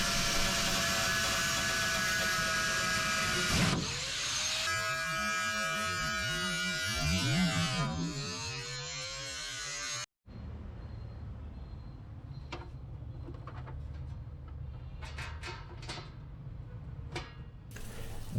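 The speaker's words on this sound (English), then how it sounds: "especially an angle grinder like this" Angle grinder cutting metal on a custom exhaust and rear-mount radiator build, a loud, harsh whine that shifts pitch as the disc bites, then stops abruptly, leaving a quieter stretch of faint clicks and handling noise.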